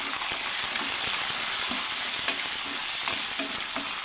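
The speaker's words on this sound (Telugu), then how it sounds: "కరివేపాకుని కూడా వేయించుకుని" Curry leaves and dried red chillies fry in hot oil for temple-style pulihora, giving a continuous bright sizzle with scattered small pops and faint stirring scrapes, close and steady, no talking.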